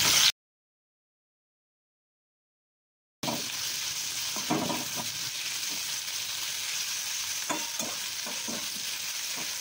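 Potatoes and green chillies fry in hot oil and are stirred with salt for sabudana khichdi, a steady close sizzle with scraping stirs that starts after a brief silent gap.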